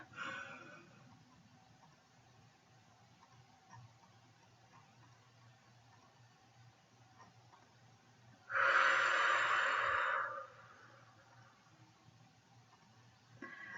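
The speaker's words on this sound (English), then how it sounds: "This is another breathing technique to get control of your breath." A slow, controlled breath in a quiet room, with one loud, breathy rush of air close to the microphone that lasts about two seconds before it falls back to near silence.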